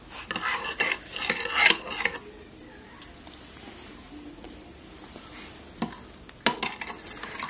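A spoon stirs pani puri water, scraping and clinking against a vessel in bursts with quieter gaps between, close by and moderately loud.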